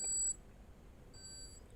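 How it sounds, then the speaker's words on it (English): Beeping alarm inside a tank video game: a steady high-pitched electronic tone sounds briefly, drops out, then returns for a second stretch over a faint low background hum. "Beep, beep, beep."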